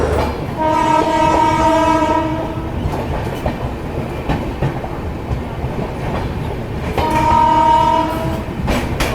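A Shatabdi Express passenger train passes close by, blaring its horn in two long sustained blasts over a steady loud rumble and clatter of the rolling coaches.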